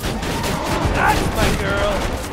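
Rapid turret gunfire in Borderlands 2, a dense continuous rattle of shots with faint game voices and tonal effects layered over it.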